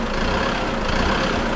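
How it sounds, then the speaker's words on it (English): Car engine revving through an ECU Shop V2 throttle controller, a steady broadband engine roar held for a moment with no clear rise or fall. "You can hear it revving longer, bigger."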